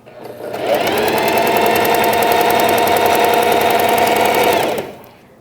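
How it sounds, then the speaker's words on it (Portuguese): A sewing machine runs steadily for about four seconds, stitching the folded edge of a fabric pet bandana, loud and close with a smooth continuous whir before stopping. "Dobrou as duas, vamos costurar."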